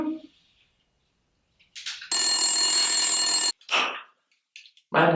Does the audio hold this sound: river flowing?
no